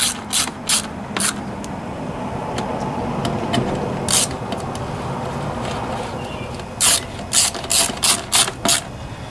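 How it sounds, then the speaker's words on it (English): A ratchet drives down the Torx head screws on a Toro Briggs & Stratton 7.25 163cc engine, sounding as rapid clicking bursts in several clusters over a steady low background hum, close and fairly loud. "Tighten these 3 screws down."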